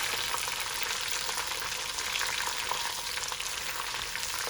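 Chicken pieces brown in oil in a pan for a stew, an even, continuous sizzle throughout with no speech.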